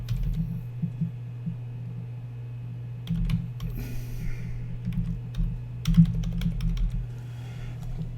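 Computer keyboard being typed on while entering an email address during an account signup, with irregular bursts of light key clicks over a steady low electrical hum.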